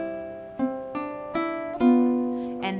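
Acoustic guitar plays the high G part of a song alone: four or five plucked notes struck one after another, each ringing out and fading, close and clear.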